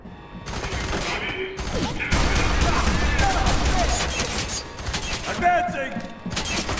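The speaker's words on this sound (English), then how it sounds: "Pressing fire! Keep up the fire!" Heavy firefight gunfire in FEAR 3, dense overlapping bursts and shots rattling continuously, loud and close, with shouted voices breaking in now and then.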